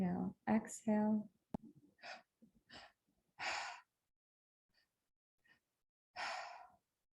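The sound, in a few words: guided breathwork inhaling and exhaling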